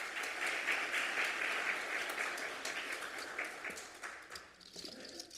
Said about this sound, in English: Let's give them another round of applause there.